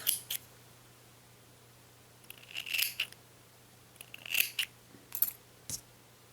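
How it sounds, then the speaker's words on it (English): Several short crisp snips of scissors trimming yarn for a tassel, spaced a few seconds apart, close by and fairly quiet over a faint steady hum. "So grab your scissors and just trim it off."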